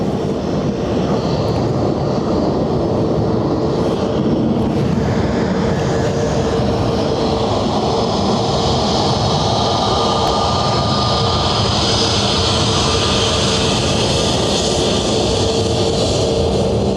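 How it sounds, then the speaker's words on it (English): An Aer Lingus Airbus A320neo jet airliner from Milan at Dublin airport, its engine roar a steady, broadband rumble and whine holding loud and continuous throughout. "The Aer Lingus 320 Neo from Milan."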